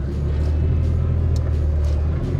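A truck rolling along a snowy road on the way to an off-road recovery, a steady loud low engine and road rumble heard from inside the cab throughout, with no talking.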